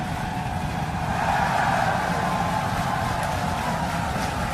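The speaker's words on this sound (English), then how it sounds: "18 engines burn off all of that velocity" A rocket booster's 18 engines burning during landing, a loud continuous broadband roar with a rumbling low end, steady from start to finish with no voices.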